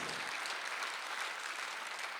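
A church congregation applauds during a Sunday worship service, steady dense clapping filling the room throughout without a break.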